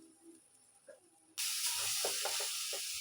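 Oil heating in a pan for a sprouts curry gives a faint low rumble at first, then a loud steady hiss and sizzle that starts abruptly and carries on with small crackles.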